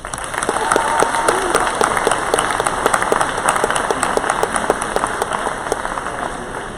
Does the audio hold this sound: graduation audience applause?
yes